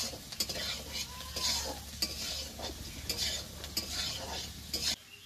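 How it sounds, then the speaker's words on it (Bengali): Potatoes fry in a pan for sago fry, a soft steady sizzle broken by repeated scraping and clinking of a spatula stirring against the pan. "আলুটা লাল লাল করে ভাজা হয়ে গেছে"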